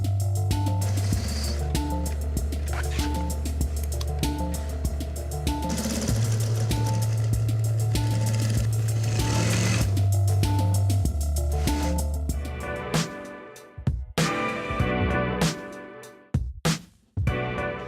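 A sewing machine runs steadily, stitching a closed seam as part of a hands-on analog craft project, its motor drone continuous and fairly loud for about thirteen seconds before stopping, leaving a few scattered handling knocks.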